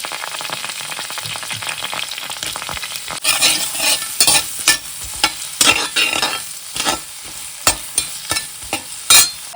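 Onion hitting melted butter in a wok, sizzling and frying with repeated scraping stirs and clanks of the spatula, close and loud, no talking.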